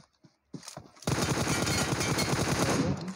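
Automatic gunfire sprays in BGMI: a few single shots, then a loud, sustained rapid burst lasting about two seconds, close and dense.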